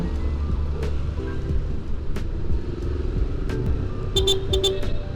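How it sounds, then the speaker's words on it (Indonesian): Engine rumble from a nearby idling 2018 Yamaha Lexi scooter, then a few short horn beeps toward the end. "Nah ini klaksonnya juga lumayan lah, rada berwibawa lah."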